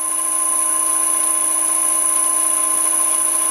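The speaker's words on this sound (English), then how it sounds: "Let's run the lathe for a while and check the run out that way." A metal lathe spins a chuck fitted with wedges, giving a steady, loud whine with a constant pitch and no break for several seconds.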